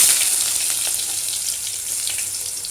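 Mustard seeds, cumin and onion fry in hot oil for a North Indian curry, a loud, close, continuous crackling sizzle with scattered pops, heard alone.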